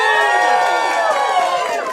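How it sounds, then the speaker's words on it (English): A comedy club audience cheers and whoops at the opening of a live stand-up show, a loud, sustained roar of voices with no break. "the crowd goes wild!"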